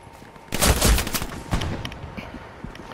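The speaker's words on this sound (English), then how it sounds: "Gunshot right here." Gunfire in the World War II shooter Hell Let Loose: a loud close burst of several rapid shots, followed by scattered single cracks and more distant reports.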